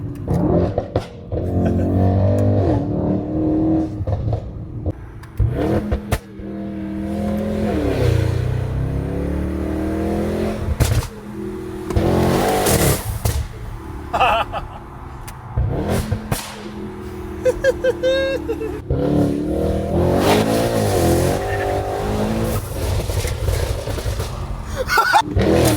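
A Mercedes-AMG E63 S fitted with a full titanium exhaust system and downpipes is revved hard near a wall. Repeated loud roaring rev sweeps rise and fall with crackles between them, and voices talk in the background.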